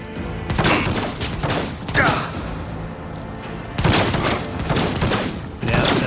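Bursts of gunfire in the video game Warhammer 40k: Rogue Trader: dense volleys of shots with thuds, separated by short quieter gaps, and a person speaking in between.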